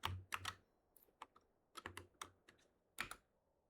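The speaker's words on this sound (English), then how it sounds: "Maybe let me try typing it out." Bursts of keystrokes on a computer keyboard in clusters with short pauses, close and fairly quiet, during a League session, with no talking.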